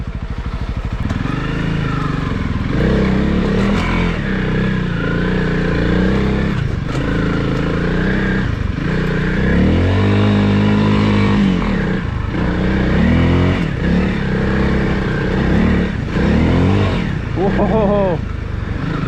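A Honda CRF300L motorcycle rides through woods, its engine loud and close, revving up and down repeatedly over rough ground, with a rider talking intermittently over the noise.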